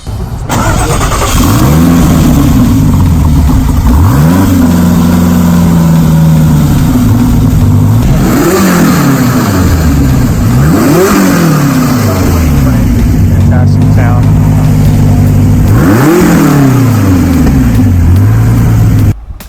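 An SSC Tuatara sports car engine revs loudly and repeatedly, with rising and falling pitch sweeps as it accelerates and drops back, one sustained, close, powerful roar throughout.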